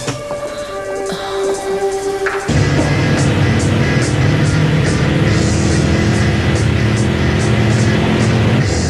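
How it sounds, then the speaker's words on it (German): A car engine accelerates, its steady loud drone rising in intensity and holding strong after a sudden surge, with no voices over it. "Hört sich gut, der Wagen. Hat eine tolle Beschleunigung."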